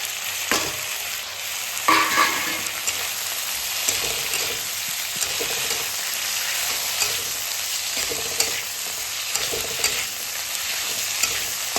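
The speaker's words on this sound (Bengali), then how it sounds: "দিয়ে দেবো সেই পেঁয়াজ আর ক্যাপসিকামটা কিউব করে কাটা ছিল সেটা" Cubed onion and capsicum frying in a pan with ginger and garlic, giving a steady close sizzle with occasional stirring scrapes and clinks, and no one talking.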